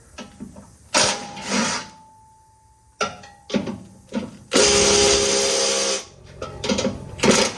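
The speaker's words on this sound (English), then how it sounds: "we're going to undo our 3 bolts to go to our transmission mount here." Mechanic undoing transmission mount bolts on a 6.7 Cummins truck with a power tool, several short whirring bursts and one longer loud run separated by pauses, close and with no talking.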